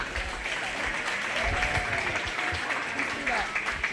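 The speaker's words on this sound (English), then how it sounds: "All these kids a big round of applause" Spectators at a 4-H/FFA sheep and lamb show applaud the kids in the ring with a moderate patter of clapping, while voices carry faintly over it.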